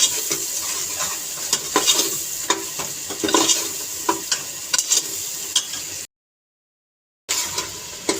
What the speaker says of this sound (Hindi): इसको हम अच्छे से भून लेते हैं।